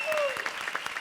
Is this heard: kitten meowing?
no